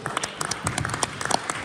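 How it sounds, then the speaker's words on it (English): Seminar audience applauding at a leadership training event in Warsaw, Poland, a short burst of scattered claps with some crowd noise. "Can we give Freeway a round of applause today?"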